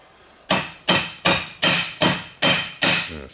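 Hammer chipping at a weld on a caravan build, seven sharp metallic blows at a steady rhythm, loud and close with ringing decay, no talk.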